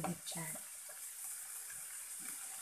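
Water runs from a kitchen tap into a pan or container as a steady soft hiss, with faint background voices.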